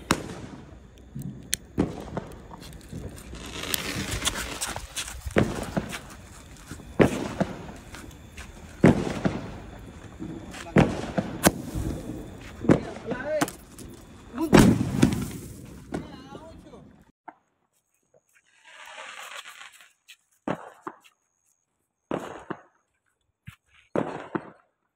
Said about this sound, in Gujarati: હવે આપણો આ બીજો સ્કાય શોટ છે.